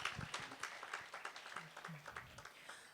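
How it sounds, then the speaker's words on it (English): Audience applause for athletes at a university sport gala awards ceremony, a quiet, uneven scatter of claps with distinct individual hand strikes rising and falling, heard from a distance. "A round of applause, please, colleagues, for our esteemed athletes."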